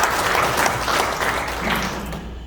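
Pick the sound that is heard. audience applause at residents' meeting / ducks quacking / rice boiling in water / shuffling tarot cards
audience applause at residents' meeting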